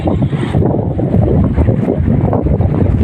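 Strong wind gusts over open water beside a fishing boat during tilapia fishing, a loud continuous rumbling roar of wind buffeting the microphone with no voices.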